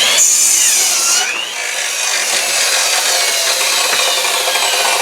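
Wooden planks are cut in half with a saw, a loud, close, continuous rasping cut that briefly dips and changes pitch before settling into a steady grind to the end.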